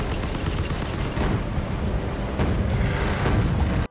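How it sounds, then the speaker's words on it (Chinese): In a 2023 Guy Ritchie war film, an AC-130 gunship fires its cannon amid explosions, a dense, loud, continuous roar of booms and blasts that cuts off abruptly at the end. "一连串航炮射击以及爆炸声音袭来"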